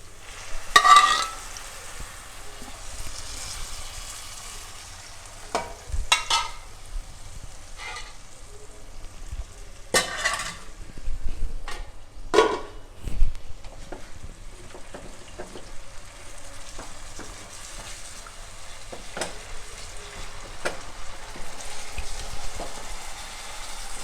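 Pork ribs frying in a pan after soup is poured in, a soft continuous sizzle with intermittent scraping and clanking of a utensil stirring, a few louder knocks, no talking.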